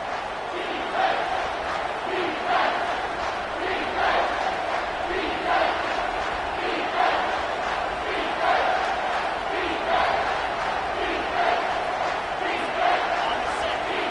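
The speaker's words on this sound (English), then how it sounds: "And the crowd coming to life here, trying to help this defense down in the red zone." Football stadium crowd roaring steadily as the home defense holds in the red zone near the goal line, a dense continuous wall of cheering with rhythmic surges throughout.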